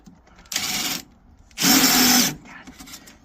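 Power drill driving two blunt-tipped screws to mount a bracket inside an HVAC cabinet, two close bursts, a short one then a longer louder run, with quiet handling between.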